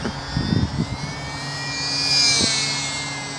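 An SBACH 342 RC aeroplane flying in calm conditions, its engine a steady distant drone that swells and fades as it passes, with a few faint thumps near the start.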